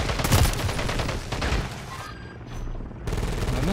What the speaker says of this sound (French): je tire dessus, frère